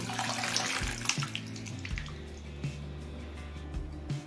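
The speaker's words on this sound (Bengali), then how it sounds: "এবার সিদ্ধ করা ঘুগনি মটরটা দিয়ে দিচ্ছি আর দিচ্ছি মটর সিদ্ধ করা জল" Water from boiling peas is poured into a pan of ghugni, a continuous close splashing stream whose pitch rises as the pan fills, with a few drips and clinks, no voices.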